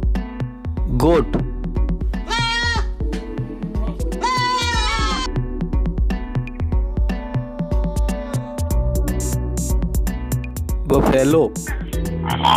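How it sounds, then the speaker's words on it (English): Goat bleats twice in short, quavering cries, with another brief bleat near the end, all over a rhythmic musical backing. "Goat."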